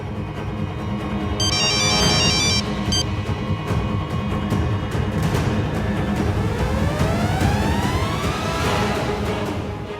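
Bright, repeated electronic ringtone tones come in around the two-second mark over a dense, busy backdrop of dramatic music and ambience, with a rising synthetic sweep later; no voices.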